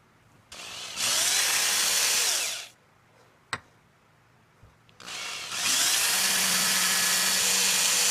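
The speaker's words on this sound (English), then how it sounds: "and pre-drill the holes." A drill pre-drills holes in a wooden pepper mill, with two loud whirring bursts separated by a quiet pause holding a sharp click and light handling knocks.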